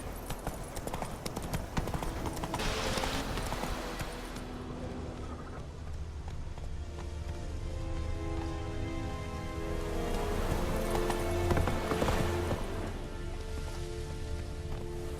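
Horse hooves gallop in a steady, continuous clip-clop rhythm through The Witcher 3, close and fairly loud, over a low ambient game soundscape with faint musical tones.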